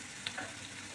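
Spices such as curry leaves sizzling in hot oil in a pan, a steady soft frying hiss with a couple of brief crackles, fairly faint and heard without any talk.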